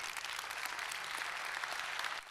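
An audience at a leadership conference claps for a couple of seconds, a dense, even patter of many hands, fairly distant and soft, tapering slightly at the end.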